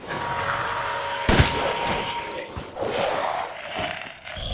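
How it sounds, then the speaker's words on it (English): An M1897 shotgun fired at point-blank range into a large lycan in Resident Evil Village, one sharp, heavy blast standing out against continuous game background noise and scattered impact sounds. "If you do point blank range with the shotgun on a large lichen."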